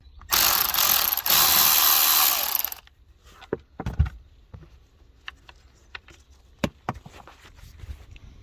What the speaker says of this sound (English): So we're going to undo these screws here, which look like T20s either side.